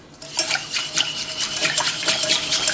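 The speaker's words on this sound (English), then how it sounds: "But you just add some oil. Give that a good whisk." Whisk beating oil into a wasabi coleslaw dressing in a bowl, a quick, steady rhythmic clatter of wire against the bowl, close and loud with no talking.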